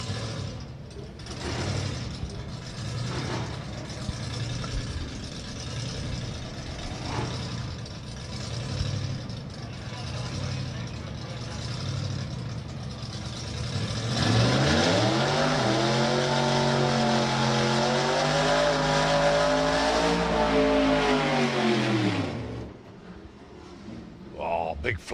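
A supercharged Ford drag racing car making a run at a drag strip, its engine a loud, rough roar that swells and bends in pitch during the second half before cutting off, with a commentator talking throughout.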